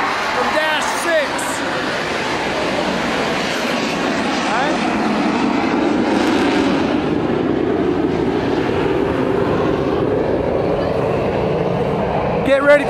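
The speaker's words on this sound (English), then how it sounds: "We got the Blue Angels coming in, powering it with his motor." A Blue Angels jet flies in at an air show with a broad, rising roar that swells and lingers close by. People talk over it throughout.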